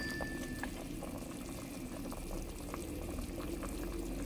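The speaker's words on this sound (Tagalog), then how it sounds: "Kumukulo na." Water bubbles at a steady rolling boil in a cooking pot for fish, a continuous close simmering churn with small pops throughout and no voices.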